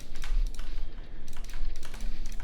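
Fast typing and clicking on a computer keyboard: a rapid, close patter of key taps with a few brief pauses, loud and dry, with no voices.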